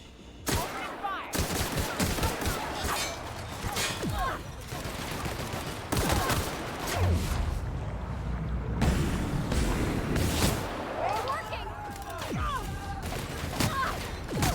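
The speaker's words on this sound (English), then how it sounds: "Opening fire!" Heavy gunfire fills a battle in the video game The Outer Worlds: loud bursts and rapid volleys of shots, broken by brief lulls and quieter stretches, continue for about fifteen seconds.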